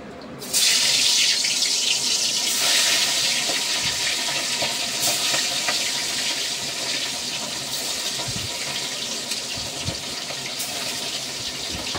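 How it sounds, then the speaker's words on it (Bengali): Small fish go into smoking-hot oil in a home kitchen, setting off an abrupt, loud, continuous sizzle that holds steady and close for the rest of the stretch. "তেলে মাছটা ছেড়ে দেবো।"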